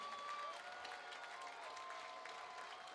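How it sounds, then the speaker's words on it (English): A high school football crowd claps and cheers in the closing seconds of a game, a sustained distant wash of applause with a steady tone running under it. "they're happy now and they're cheering now"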